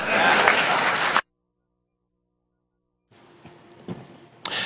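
Courtroom audience applause after a comment at a Supreme Court session: a burst of clapping that cuts off abruptly into silence, then faint murmuring returns before a second short burst.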